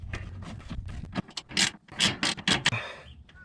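A ratchet working Torx T30 fog light screws out of a 2021 Ford Raptor, a run of quick, crisp clicking bursts and metallic scrapes close by, then a brief pause at the end, with no talking.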